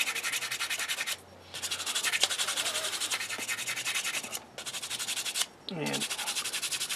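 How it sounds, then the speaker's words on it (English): A wooden coffee scoop handle is sanded by hand, with close, steady rasping strokes in a repeated rhythm broken by a few short pauses. "So I'll sand this by hand."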